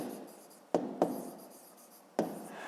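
Chalk or marker writing on a board, with soft scratchy strokes and three sharp taps where the tip strikes the surface, fairly close and alone without talk.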